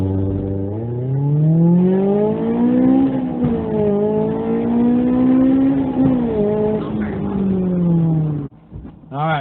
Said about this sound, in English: Zero to 60 Honda S2000,